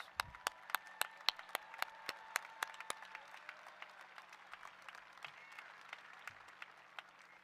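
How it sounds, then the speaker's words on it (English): Steady applause from a crowd at a college graduation ceremony, crisp individual claps ringing out, tapering slightly toward the end. "all of them an applause."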